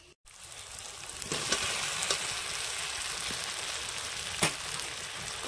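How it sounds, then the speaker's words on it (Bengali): Young jackfruit and fried potatoes stir-fry in an oily spice paste with poppy seed, giving a steady loud sizzle with occasional stirring clatters, close and continuous, no talk. "মশলার সাথে একটু ভালোভাবে নেড়ে চেড়ে মিশিয়ে কষিয়ে নিতে হবে"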